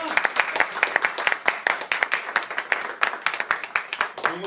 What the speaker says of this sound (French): Et on applaudit très fort, Tania qui a fait la première partie.